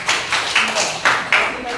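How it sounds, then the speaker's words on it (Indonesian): A classroom of students claps in a few quick, loud bursts, the rhythm turning into short unison claps close by. "Tepuk tangan."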